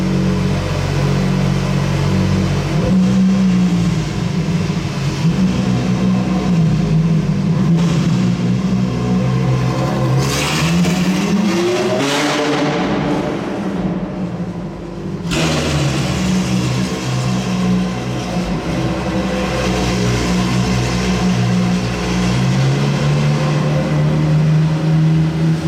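A Ferrari engine revs and roars inside a parking garage, loud and close, its sound echoing off the concrete. The pitch climbs and falls across several sustained revs, with no talking.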